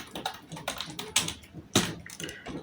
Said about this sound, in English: we can type new arrivals here, and we can type